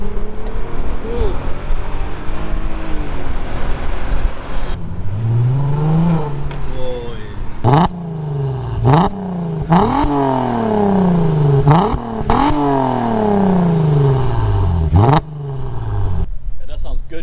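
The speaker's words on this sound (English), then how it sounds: "It just needed a good drive, and now this car is purring like a kitten." Audi A3 with a 3.2 V6 engine revving repeatedly while driving through sequential gear changes, loud rising sweeps cut by sharp shifts, with voices talking over parts of it.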